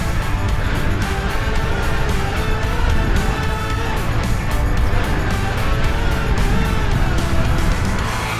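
A Suzuki DR-Z 400S motorcycle being ridden drones steadily and loudly from start to finish, its engine note holding a continuous rumble with wind noise and no voices.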